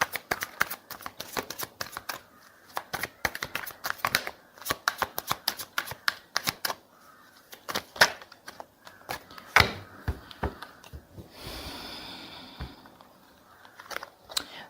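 Tarot cards are shuffled by hand in quick, close riffling and flicking bursts, with short pauses between rounds and a softer sliding stretch near the end.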